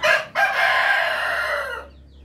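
One Rhode Island rooster on a breeding farm crows once, loud and close, a short opening note then a long drawn-out call that fades away, with no talking.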